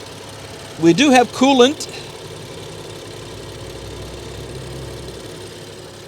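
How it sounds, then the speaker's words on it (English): An old BMW car engine idles steadily at close range, a low continuous rumble, while a person speaks briefly over it near the start. "But the engine sounds okay."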